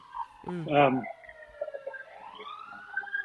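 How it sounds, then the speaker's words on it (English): A siren wails in the background, its rising and falling tone running under a voice that speaks briefly near the start. "I apologize for the sirens."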